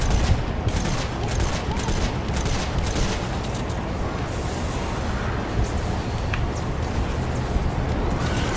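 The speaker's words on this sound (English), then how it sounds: "Probably gonna use my airstrike." Airstrike explosions and gunfire in the video game Fortnite, a dense, continuous barrage of loud blasts and crackling shots rolling on without pause throughout.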